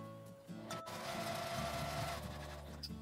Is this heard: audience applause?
no